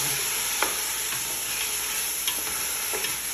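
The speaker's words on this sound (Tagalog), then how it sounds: "At ngayon i-add ko na itong meat. At i-mix ko lang siya hanggang mag-white yung kulay." Meat fries in a pan with a constant loud sizzle, while a spoon scrapes and stirs it a few times in brief, close strokes.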